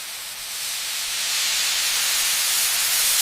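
High-pressure steam hissing into sulfur melting tanks heated to 130 degrees Celsius at a volcano, a loud steady broadband hiss that swells slightly and then cuts off abruptly at the end.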